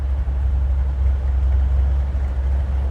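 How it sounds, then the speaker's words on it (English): A 1973 Chevrolet Corvette's 350 V8 idles with a loud, steady low rumble close by, the burble holding even for a few seconds with no voices over it. "A little rumble coming out of that 350."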